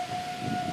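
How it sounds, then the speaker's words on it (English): A tornado siren in Bartlett, Tennessee wails with a steady, sustained tone, heard from a distance over low outdoor rumble. "Tornado sirens started going off probably about 10 minutes ago"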